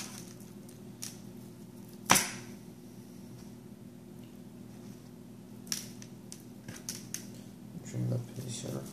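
A knife trims fat off a raw brisket with soft, sporadic cutting and slicing sounds, including one sharp crack-like click early on, amid quiet background hum.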